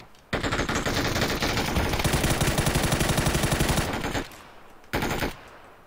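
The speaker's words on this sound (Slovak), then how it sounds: "To kto strieľa?" Rapid automatic gunfire from a multiplayer shooter video game, long close bursts of rattling shots that stop abruptly, then a brief final burst.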